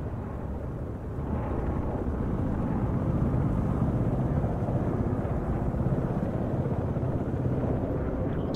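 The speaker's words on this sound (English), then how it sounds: "They got in the air. Some helicopters. Ooh, lots though." Helicopters lifting off in the multiplayer war game Broken Arrow make a steady, dense rotor-and-engine roar that swells after the first second and holds loud and continuous, with no talk over it.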